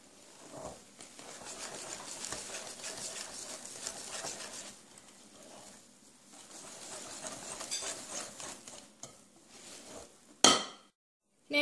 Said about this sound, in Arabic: غادي نزيد الكاكاو وغادي نبدا نخلط مزيان بهذه الطريقه.